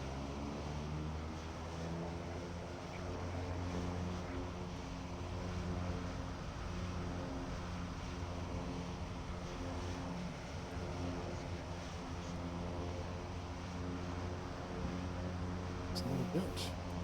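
Light aircraft engine in the X-Plane 11 flight simulator, a steady low droning hum with harmonic bands while taxiing, continuous and close for the whole stretch, with faint radio-style voices in the background.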